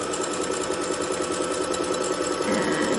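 Sewing machine running steadily while basting a knit V-neck neckband, a continuous close mechanical whir of needle strokes throughout, with no talk.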